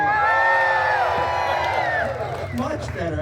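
A live theater audience cheers and whoops in a loud crowd roar, with scattered shouts that swell and then fade, while a voice speaks over part of it.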